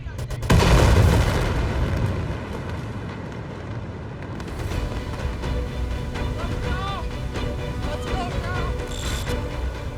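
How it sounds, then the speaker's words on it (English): The Tianjin industrial explosion: a massive blast booms early, then a long rolling roar with crackling debris and distant secondary pops, all at a steady heavy level. "Just when you think the explosion can't get any bigger, there's another explosion."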